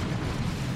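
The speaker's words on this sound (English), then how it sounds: "that was just the end of the creeping barrage" The tail of a creeping artillery barrage in Dawn of War 2 rumbles as a brief, heavy, low explosive roll, dense and booming throughout the short burst.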